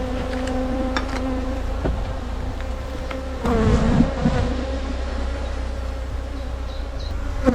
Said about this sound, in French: C'est une petite abeille qui continue.